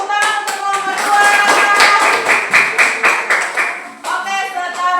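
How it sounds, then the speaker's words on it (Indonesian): An audience claps for a performing group, sharp irregular hand claps rising into a loud burst, easing off briefly, then resuming near the end. "Marilah kita tepuk tangan untuk kelompok 2."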